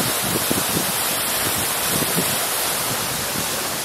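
Strong wind roars steadily, buffeting the microphone with low rumbling gusts, and no voices are heard.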